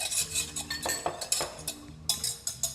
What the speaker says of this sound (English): We had a couple of chives that we cut up also, so we can whisk that in really quick